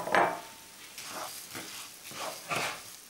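Uncooked rice stirred around a pan with a little oil before the liquid goes in, giving several soft, dry scraping swishes at a steady pace, moderately close and fairly quiet, with no talking.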